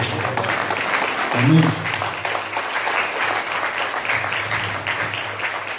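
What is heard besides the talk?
congregation applause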